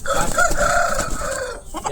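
An Abras breed rooster weighing about four kilograms crows loudly and close by at a farm, in one sustained, harmonically rich call lasting most of two seconds.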